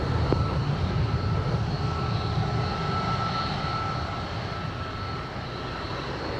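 An airplane's engine roar as it lands at Sangster International Airport in Montego Bay, Jamaica, a steady, moderately distant drone that slowly fades, with no voices.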